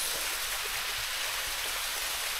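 Stream water flowing steadily through a mountain forest, a continuous broadband rush and hiss with no pauses, moderately loud and close, with no voices.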